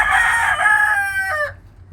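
A rooster crows once, close and loud, its long call rising, holding, then breaking off, with a quiet outdoor background left afterward.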